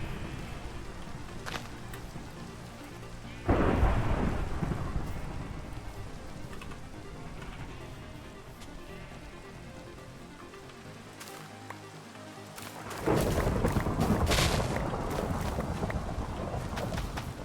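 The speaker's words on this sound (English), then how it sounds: "Feels like an occasion that I should not be out of doors just harvesting wheat in the rain and thunderstorm." Rain from a Minecraft thunderstorm hisses steadily throughout. Two loud, broad rumbling surges, one early and one near the end, break through the pattering, and nobody speaks.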